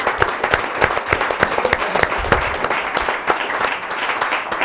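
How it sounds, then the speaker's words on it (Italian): Studio or event audience applauds a guest joining a boxing federation broadcast, a steady burst of many hands clapping close and fairly loud for several seconds with no voices over it. "un applauso a Roberto"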